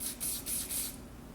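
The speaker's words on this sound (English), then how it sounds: "One that I think that we should do that it has to do with spray paint and is really fast and easy is the chipping technique." A rattle can of spray paint is applied in short bursts for a chipping technique on a model, about four quick close hissing sprays in a row, then quiet.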